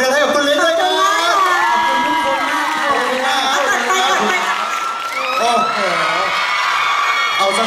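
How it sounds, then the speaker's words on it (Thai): A crowd at a live Thai travel-fair stage event cheers, whoops and shouts loudly, with children's voices among them and scattered clapping underneath, close and continuous. "ต้องขอเสียงปรบมือ"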